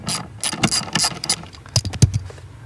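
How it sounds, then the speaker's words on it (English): A ratchet clicks in quick, uneven bursts of rapid pawl ticks while loosening a bolt from the dash of a 2008-2012 Jeep Liberty, close up and alone without talk. "I'm gonna start pulling the bolt out of the dash."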